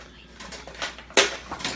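Salt and pepper brine for smoked west coast salmon is stirred in a container, with a few scraping, clinking strokes and one sharp knock near the end, close and fairly loud.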